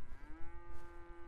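Cows mooing on a trailer in the video game GTA 5: one long, loud, close moo that holds a steady tone for over a second, with a soft rumbling background.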